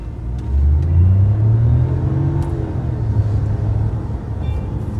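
A Geely FY11 car with an automatic transmission pulls away and accelerates, its engine rising in a loud, close, steady rumble and revving up with no one speaking.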